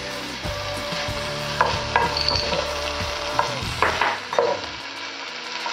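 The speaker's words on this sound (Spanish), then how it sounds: "Quiero que usted añada un cucharadita de ajo en el sartén." Garlic sizzling in a frying pan: a loud, continuous fry crackle with a few sharp scrapes and clatters of stirring.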